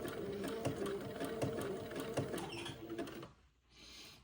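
A sewing machine runs a zigzag stitch along a scalloped curve on a baby diaper shirt, a rapid rhythmic clatter of needle strokes that stops near the end, leaving near silence and a soft hiss.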